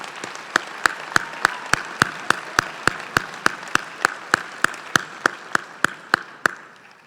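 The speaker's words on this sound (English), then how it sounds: "Let's please give them another round of applause." A commencement audience at the UC Berkeley College of Chemistry 2018 ceremony applauds award-winning students, with sharp, evenly spaced claps in a steady rhythm ringing over a softer wash of crowd clapping.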